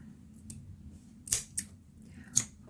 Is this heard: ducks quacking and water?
no